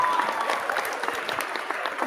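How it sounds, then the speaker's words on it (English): A small group claps on a podcast: brisk, scattered applause lasting about two seconds, with faint voices mixed underneath. "Give yourself a clap."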